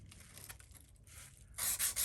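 Sandpaper wrapped over a fret eraser rubs across the frets of a Mexican-made Fender Telecaster, soft scratchy strokes that grow into a few louder, harsher rasps near the end, close and with no talk.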